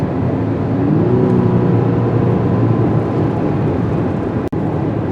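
A 2023 Infiniti QX50 Sport with a turbocharged four-cylinder and CVT heard from inside the cabin while accelerating, a loud steady engine drone with a faint rising whine and road roar, no voices.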